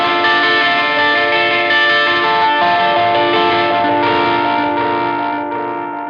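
Electric guitar through a Blues Driver pedal with delay and some phase modulation sustains bright, overdriven chords that ring continuously and fade slightly at the end, with no talking.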